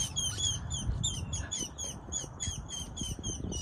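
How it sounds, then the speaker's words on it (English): Birds in a North Las Vegas park chirp in rapid, high repeated trills, steady and fairly close over a low murmur of outdoor background noise. "The birds are chirping today."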